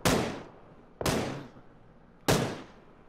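Three sharp, loud gunshots ring out in PlayerUnknown's Battlegrounds, spaced about a second apart, each a hard crack trailing into a short echoing decay, with no talk over them.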